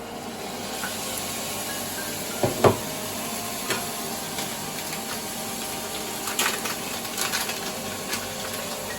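Tomato tipped into fried onions in a pan for butter chicken, a steady wet sizzle with a few louder spatters and stirring scrapes, no speech.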